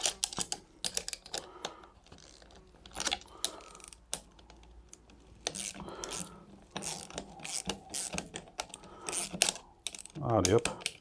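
A ratchet clicks in quick uneven bursts while tightening a Nylstop nut during a supercharger install on a Hemi engine, close and crisp, with short pauses and handling noises between the runs.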